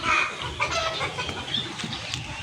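Backyard chickens, including Bantams, cluck softly over a short stretch at feeding time, with brief high chirping calls over a low, steady barnyard murmur at close range.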